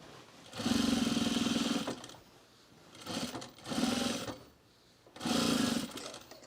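A sewing machine stitches a sewn rug in three bursts of steady, buzzing whir, each stopping into a brief quiet pause before starting again, close and clear.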